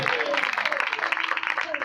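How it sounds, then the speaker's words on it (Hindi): A church congregation claps loudly in welcome at an Independence Day celebration, a dense burst of many hands, with voices mixed in over the applause. "हम जोरदार तालियों से वेलकम करते हैं।"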